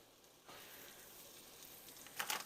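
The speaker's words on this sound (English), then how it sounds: "I'll let the garlic brown a little" Garlic browning in a hot pan: a soft, steady sizzle that swells a little after the start and crackles brighter near the end, with no voices.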